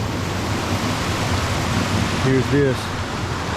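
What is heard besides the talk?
jungle river water flowing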